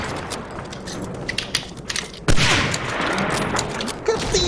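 Bursts of gunfire in the video game Medal of Honor: Allied Assault Spearhead crackle in rapid volleys, with a sharp loud blast midway followed by more dense shooting.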